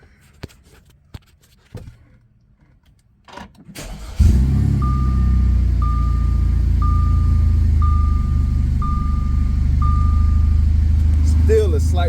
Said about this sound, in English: Still a slight misfire, but it's not jumping all over the damn place.